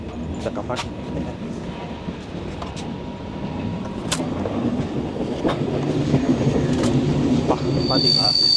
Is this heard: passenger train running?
yes